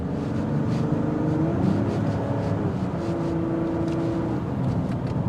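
A 2025 Mazda CX-70 3.3 Turbo S Premium Plus cruises at interstate speed, its steady engine drone and tonal hum carrying under continuous road and wind noise throughout, with no voices.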